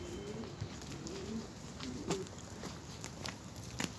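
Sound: pigeons cooing in a coop

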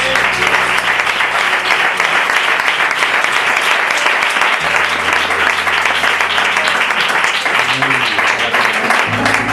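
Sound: church congregation applause

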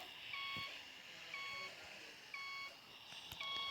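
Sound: reversing beeps of a bus backing up, bus simulator video game

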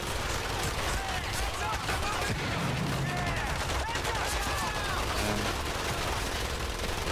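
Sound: gunfire in a video game

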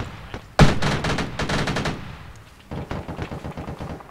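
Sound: machine gun fire in a video game

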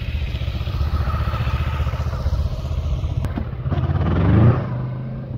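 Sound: Kawasaki Vulcan S motorcycle riding

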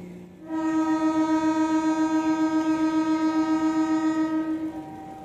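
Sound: horn of a CC01 series diesel locomotive departing

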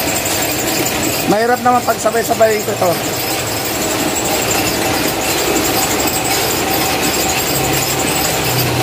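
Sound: printing press machine running

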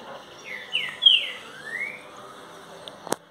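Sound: songbird singing, boiadeiro bird

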